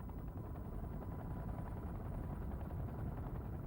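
A helicopter near an aircraft carrier drones steadily, its rotor thrum forming a continuous broadband roar that stays fairly distant and unchanging throughout.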